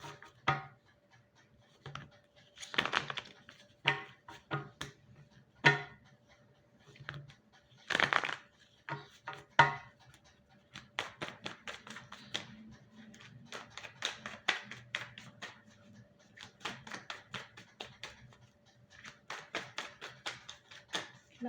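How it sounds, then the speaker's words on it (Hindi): A tarot card deck is shuffled in quiet bursts of soft slaps and riffles, sparse and uneven at first, then quickening into a denser patter of taps with no talking. "Last shuffle."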